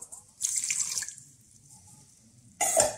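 Water poured into a mixing bowl with flour, sugar, yeast and salt for an almond-flour ring cake, two short bright bursts of pouring close by with a pause between them.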